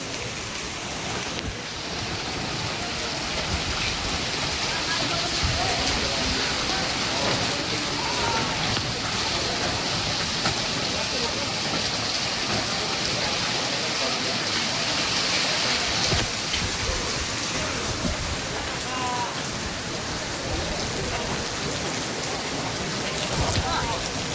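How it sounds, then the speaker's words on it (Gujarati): Heavy rain pours steadily at Dundas during the first rain of the season, a dense, loud, unbroken hiss with possible faint rumbles of thunder. "તો ડુંડાસ જો અત્યારે આવો વરસાદ પડે છે."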